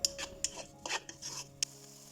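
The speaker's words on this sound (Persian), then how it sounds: "حالا سویای آب گرفته شدهمون رو اضافه میکنیم و مجدد با پیازها تفت میدیم" Soaked soy chunks and onions are stirred in a pan with a utensil: irregular close scraping strokes and clinks against the metal over a soft sizzle, with no talking.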